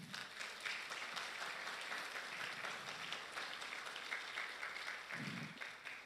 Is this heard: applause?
yes